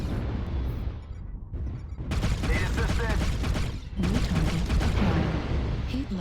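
Pulse lasers fire at a mech in a video game, with rapid repeated bursts and booms from close by, coming in dense volleys with short gaps between them.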